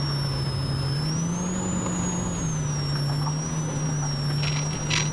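Polaris Pro R off-road vehicle at speed during a Baja 1000 pre-run, a steady loud engine drone with a constant high whine and rushing wind throughout.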